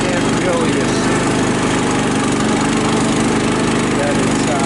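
Engine of a long-abandoned, tree-damaged Cub Cadet riding mower under repair, running in a loud, continuous, even drone with a close, vibrating rumble throughout.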